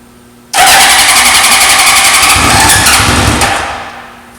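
The engine of a 1973 Honda CB750 motorcycle, primed with fuel poured into the carburetor, cranks and catches with a sudden loud roar. It runs rough and close for about three seconds, then fades as it dies, with no talk.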